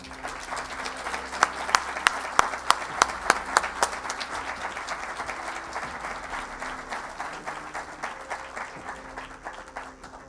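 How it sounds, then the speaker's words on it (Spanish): An audience at a ufology congress breaks into sustained applause, a few sharp individual claps standing out early before the clapping settles into a steady wash. "Le pido un fuerte aplauso"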